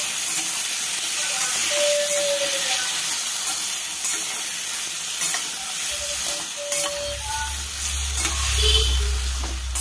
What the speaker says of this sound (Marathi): आता हा थोडासा गॅस फुल केलेला आहे मी. गॅस फुल करून आहे ना असं थोडंसं परतून घेते मी.